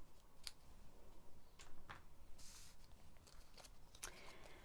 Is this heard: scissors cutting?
yes